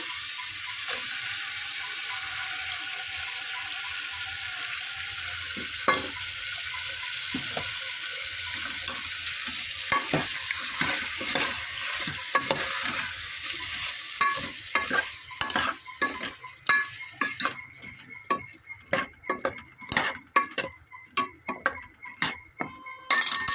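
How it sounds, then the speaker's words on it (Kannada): Ground masala for jackfruit seed sambar frying in a pan with a steady close sizzle, while a spoon scrapes and stirs in repeated sharp strokes that grow busier toward the end, with no talking. "ಸ್ವಲ್ಪ ಒಂದು ಐದು ನಿಮಿಷ ಫ್ರೈ ಆಗಲಿ ಹಸಿ ವಾಸನೆ ಎಲ್ಲ ಸ್ಮೆಲ್ಲೆಲ್ಲ ಹೋಗಲಿ"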